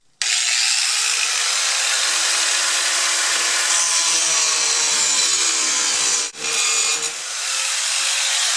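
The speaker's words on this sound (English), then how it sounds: "The 6-inch bolt hangs down just a little bit more than I'd like. I think I'm going to grind it off" An angle grinder cuts through a protruding 6-inch steel bolt on a chicken coop composter, a loud, steady high-pitched whine with a brief dip near the end before resuming.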